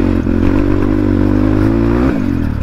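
A motorcycle engine roars close and loud in a steady, rumbling drone, with a slight dip and a clattering shift near the end.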